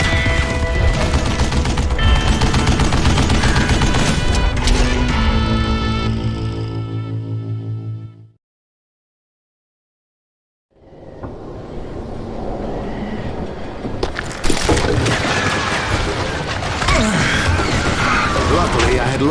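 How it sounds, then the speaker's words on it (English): A Gatling gun hidden and shielded in a tunnel in the Call of Juarez video game fires in a loud, sustained mechanical rattle. It breaks off into about three seconds of silence, then returns with heavy bursts. "Kid Curry opened up on me with a goddamn Gatling gun"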